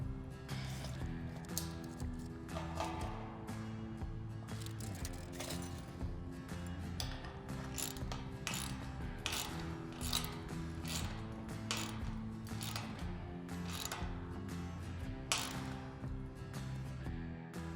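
A bolt is tightened on the bottom hinge of a farm gate, with a quick series of close metallic ratcheting clicks and taps repeating irregularly throughout.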